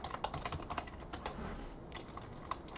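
Someone types a Linux change-directory command on a computer keyboard: a quick, close run of light key clicks, fairly steady with brief pauses, heard alone without talk.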